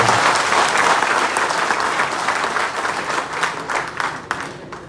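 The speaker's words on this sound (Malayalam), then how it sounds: "നമുക്ക് എല്ലാവർക്കും നിറഞ്ഞ കയ്യടിയോടുകൂടി" Dense crowd applause at a political gathering in Palakkad welcoming a newly installed BJP district president, loud and sustained, thinning toward the end with a few distinct claps standing out.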